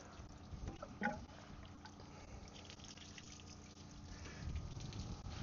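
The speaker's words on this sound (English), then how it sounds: "And more water starts coming out right here." Water trickles and splashes steadily from a skid unit's booster line valve during winterization, with a faint drip near the start and a low mechanical hum underneath, slightly louder toward the end.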